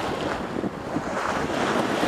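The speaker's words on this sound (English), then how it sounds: "Wind is strong." Strong wind blows at a shore at sunset, a dense continuous roar of buffeting gusts across the microphone with no pauses.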